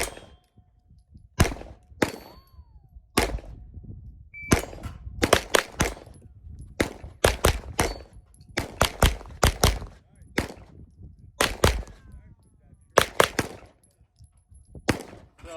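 Pistol-caliber carbine gunfire from a Springfield Armory Kuna or Grand Power Stribog SP9 A3 on a range, loud sharp shots in quick pairs and strings with ringing steel-target clangs between, brief quiet gaps separating bursts.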